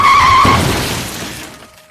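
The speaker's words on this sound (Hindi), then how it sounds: "टायर घिसे, गाड़ी फिसली और कुछ ही इंच पहले रुक गई।" A car brakes hard on a road and its tyres skid with a loud, high squeal that slides into a rough grinding rush, then fades over about two seconds, close and alone with no talk.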